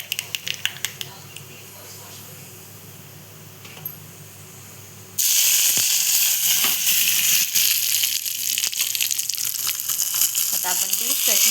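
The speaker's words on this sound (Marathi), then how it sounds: "मोहरी इथे गरम झाली की आपण त्यात टाकणार कढीपत्ता." Curry leaves dropped into hot oil with popped mustard seeds erupt into a sudden loud, close sizzle that keeps hissing and spitting steadily, after a quiet stretch with a faint voice.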